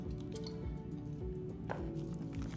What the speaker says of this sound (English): We're going to use 5 milliliters of the distilled water